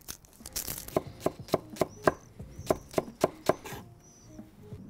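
A knife chops shallots on a cutting board in a run of about ten crisp, evenly spaced close-up thuds, with a faint rustle before and after.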